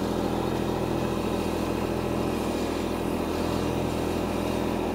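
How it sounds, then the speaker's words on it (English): A tractor stuck in deep mud runs its engine in four-wheel drive with diff lock engaged as the wheels spin, producing a continuous close engine drone that stays fairly even throughout. "And I'm just spinning and making things worse."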